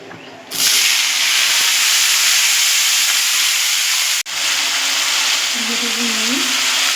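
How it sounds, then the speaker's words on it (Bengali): Flat beans fry in hot white oil with salt, turmeric and a little sugar, a loud continuous sizzling hiss that bursts in suddenly, briefly cuts out, then resumes, with a faint voice murmuring late. "এবার আমি প্রথমে বটবটিটাকে একটু নুন, হলুদ আর সামান্য পরিমাণে একটু চিনি দিয়ে ভেজে নেব।"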